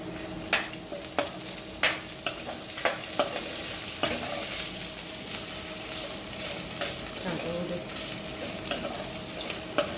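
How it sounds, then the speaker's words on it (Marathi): Finely chopped onion frying in a pan for a Vidarbha-style dal bhaji, with a steady sizzle under repeated spoon scrapes and stirring knocks spaced through the whole stretch, close and moderately loud. "आपला आता कांदा टाकायचा बारीक कापलेला"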